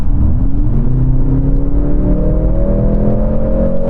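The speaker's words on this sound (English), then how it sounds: "I'm going to floor it, see what the gearbox and motor and engine combined," A Mercedes-AMG C63 hybrid accelerates at full throttle in race mode, its engine and electric motor pulling together: a loud, continuous roar with a steadily rising pitch through the whole run, and no talk.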